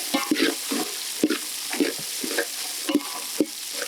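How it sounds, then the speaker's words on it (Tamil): Small shallots and large onions sauté in a pan for a Chettinad kara chutney, a close, continuous sizzle broken by rhythmic scraping stirs. "வெங்காயம் நல்லா வதங்கிருச்சு"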